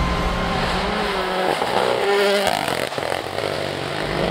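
A built-up Subaru rally car races loudly along a rally stage. Its engine roars and shifts pitch as it accelerates and lifts through a fast pass, with no voices.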